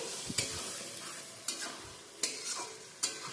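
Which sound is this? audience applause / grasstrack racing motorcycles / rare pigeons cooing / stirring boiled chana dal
stirring boiled chana dal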